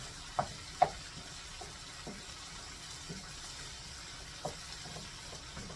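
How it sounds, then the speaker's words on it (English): Taco seasoning is stirred into a small amount of hamburger frying in a pan, a low, soft sizzle under occasional dull scrapes and taps of the spoon, fairly quiet and close. "And then I'm going to get that stirred in there."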